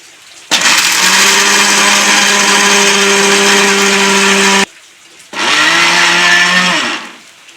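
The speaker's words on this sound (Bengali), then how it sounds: "এবার মিক্সি জারে দিয়ে একটু গুঁড়ো করে নেবো বাদামটাকে" Mixer grinder crushing raw peanuts in a jar: a loud, steady electric whine running for about four seconds, stopping, then a second shorter burst.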